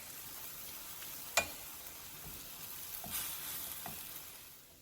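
Ground beef mixture for empanada filling sizzling quietly in a pan, a faint steady fry with a few soft stirring scrapes and clinks of a utensil.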